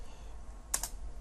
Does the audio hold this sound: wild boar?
no